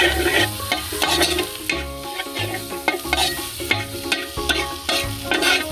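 Coconut pieces frying in a pan while being stirred, a near, loud sizzle broken by repeated scraping and clattering strokes of a spoon against the metal.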